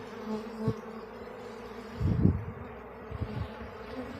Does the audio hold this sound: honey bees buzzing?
yes